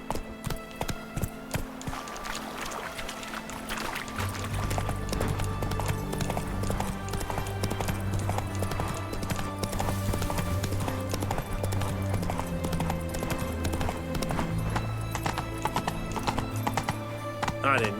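Roach, Geralt's horse in The Witcher 3, clip-clops steadily at a gallop and lets out whinnies, with game music and someone talking over the hoofbeats throughout.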